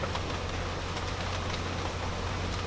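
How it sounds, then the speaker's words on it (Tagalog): Rain falls outside in Colorado as a dense, even hiss of steady drops that continues without a break, with no voices. "It's raining outside guys"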